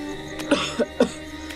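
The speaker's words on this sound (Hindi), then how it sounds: "3-4 दिनों से खांस रहा है।" A man coughs three times in quick succession, short harsh bursts at close range after a faint click, with a quiet background and no speech.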